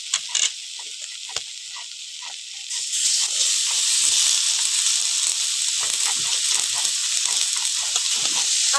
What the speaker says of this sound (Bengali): এবার আমি কচু শাকগুলো দিয়ে দেবো।